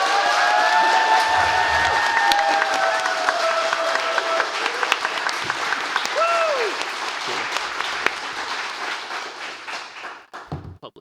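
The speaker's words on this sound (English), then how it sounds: "this is like the biggest round of applause you've ever given in your life" A book-event crowd gives loud, sustained applause with cheers and whoops for a group of debut novelists, and the clapping tapers off near the end.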